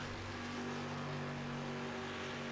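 Street stock race car engines drone steadily at Bristol Speedway in a sim-racing game, a dense, continuous motor roar with a low, even hum and no clear lift or break.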